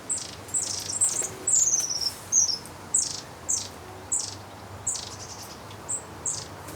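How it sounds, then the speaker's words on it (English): Young garden birds chirp in repeated short bursts, about one every half second, fairly close, over a soft hissing background. "They've got a lovely chirping sound when they're all together."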